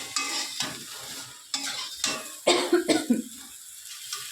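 Potato, soybean and tomato fry in a pan for a vegetarian curry, with several loud bursts of utensil scraping and clatter from stirring over a soft sizzle, and quiet gaps between them.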